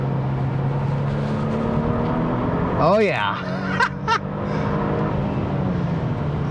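A 2024 Genesis G70 2.5T sedan driven on a race track, its engine drone steady and close inside the cabin with a brief rising surge midway, while someone talks over it.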